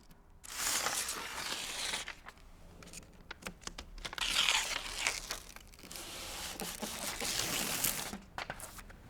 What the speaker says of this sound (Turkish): İlk önce plakalar arasındaki birleşme yerleri uygun yapışkan bant ile mühürlenir.